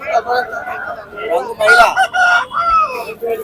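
A native country rooster crows at a rural poultry market in Timmaram, several drawn-out calls in quick succession, close and loud, with clucking and some background voices.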